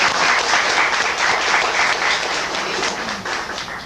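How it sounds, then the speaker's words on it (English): A lecture audience gives a sustained round of applause, with dense, fairly loud clapping that holds steady throughout and eases slightly toward the end. "Give her one more round of applause."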